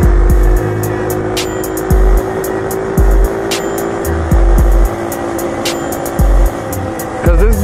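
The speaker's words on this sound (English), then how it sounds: "Cause this bike really does move. It moves really fast." A Trail 70 CT70 clone minibike revs hard and runs fast, its loud, close small engine buzzing steadily with repeated sharp throttle surges and gear-change dips, alone without speech.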